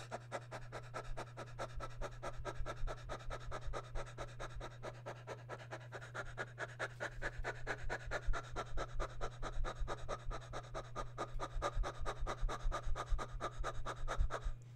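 Quick, rhythmic breaths repeat steadily like panting, close and fairly soft, over a constant low hum.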